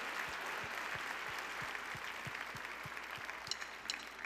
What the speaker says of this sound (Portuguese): Aplauda aquele que é digno de toda glória, toda honra e todo louvor.